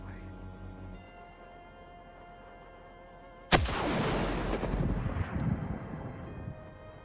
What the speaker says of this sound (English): What did she shoot at?